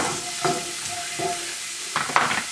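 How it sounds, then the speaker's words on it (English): Carrots are stirred into a cooking pot with onions for a bison bolognese, giving a few short, close scraping and sizzling strokes in separate bursts over a low background hiss. "Carrots right in. Stir that up a little bit."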